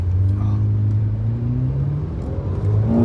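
A car engine idles with a deep, loud rumble up close, then revs, its pitch climbing toward the end.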